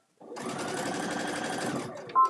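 A sewing machine back stitching the pockets of a large fabric bag runs in one steady, close, whirring burst of rapid needle strokes for under two seconds, then stops, followed by a brief tone.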